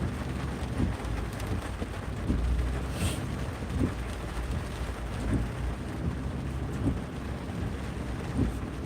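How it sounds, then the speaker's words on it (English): Rain from a rare week-long rainstorm heard during a drive home in traffic, a steady dense patter with faint low rumbles underneath and no talk. "we get a rare week-long rainstorm this week"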